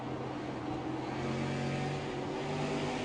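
Race cars in an SLM series race drone along the track at speed. Their engines blend into a steady, fairly distant roar with no clear individual pass-by.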